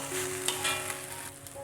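An egg fries in a pan with peanuts, giving a steady, close hiss and crackle with a faint tonal hum underneath and no talking.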